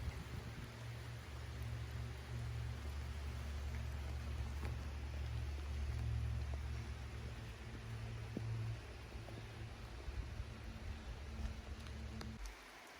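Light rain falls outside around a Toyota Tacoma, a soft, steady patter with faint scattered drops over a low engine-like hum.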